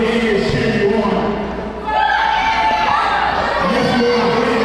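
A rowdy crowd cheers and whoops throughout a night of gambling wins, with shouting voices blending into a dense, continuous roar that dips briefly before swelling again.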